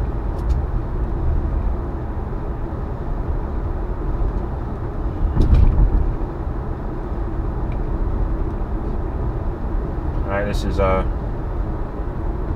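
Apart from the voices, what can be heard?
Tesla car driving on a divided major roadway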